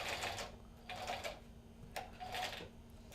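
A 1967 Bernina 730 sewing machine stitching shearling leather runs in short bursts: three or four quiet clattering runs separated by pauses, alone and faint.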